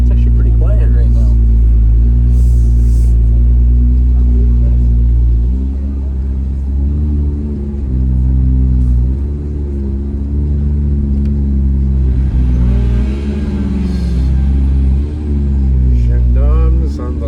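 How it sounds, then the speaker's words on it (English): A Lamborghini Aventador's engine rumbles loud and close on the Monaco F1 circuit, a deep steady roar that swells and eases as the car revs, with voices talking over it. "It's a Aventador."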